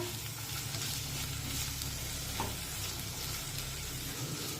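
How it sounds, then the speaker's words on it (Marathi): Chopped vegetables and finely cut tomato sautéing in oil, producing a dense, continuous close sizzle with faint stirring scrapes, with no talk. "आता या सर्व भाज्या तेलामध्ये व्यवस्थित परतून घेऊया"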